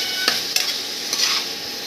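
Spice tempering for curd rice sizzles steadily in hot oil in a pan, with a few sharp scraping stirs breaking the continuous crackling hiss.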